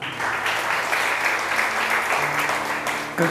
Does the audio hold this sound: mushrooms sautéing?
no